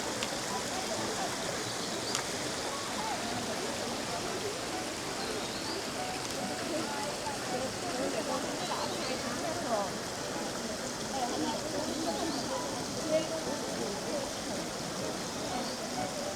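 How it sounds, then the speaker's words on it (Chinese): A babbling stream at Jinbianxi in Zhangjiajie runs as a steady, even wash of flowing water that fills the whole stretch, with faint murmuring voices in the background. "这种 ASMR 小溪潺潺流水助眠"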